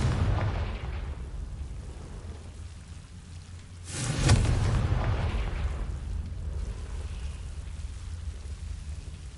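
A Confringo fire-blast spell in Hogwarts Legacy bursts midway as a sudden bright crack and whoosh, then leaves a lingering rumble over a steady rain-like ambient bed, with no one speaking.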